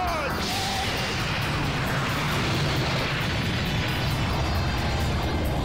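Dense, roaring blast of spirit bomb explosions hitting Hercule in a Dragon Ball game, loud and continuous for several seconds with crashing, rumbling texture.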